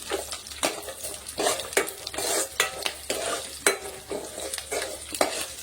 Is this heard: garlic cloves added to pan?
yes